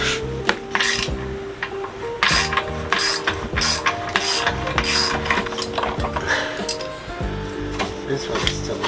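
A ratchet wrench is cranked repeatedly while a Honda CB350 motorcycle is taken apart indoors, giving loud, close, rapid clicking bursts with metallic clinks between strokes and a voice speaking briefly.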